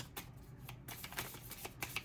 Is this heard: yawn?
no